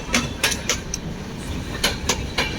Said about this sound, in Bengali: এই তো দুরন্ত এক্সপ্রেস, হাওড়া সিএসএমটি দুরন্ত এক্সপ্রেস